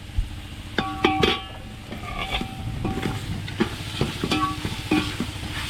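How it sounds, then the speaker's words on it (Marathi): Pomfret fish frying in a masala tadka in a pan, with a steady close sizzle broken by clattering stirs and scrapes of a utensil against the pan. "मसाल्यामध्ये चप्पल मासा टाकलाय"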